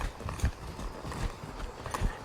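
A stallion's hooves clip-clop under a rider as he moves forward in an irregular rhythm of soft thuds, fairly close and moderately quiet.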